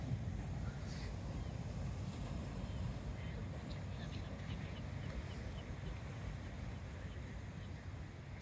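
Wind and waves wash along an ocean shore at sunrise in a faint, steady broadband hiss and rumble with no distinct breaks.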